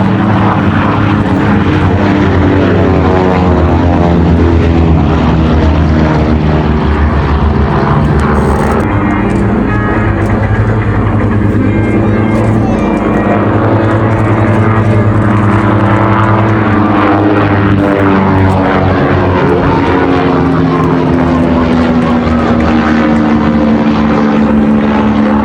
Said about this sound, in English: The rear engine was a bit prone to overheating, and above all, the noise levels are very high indeed.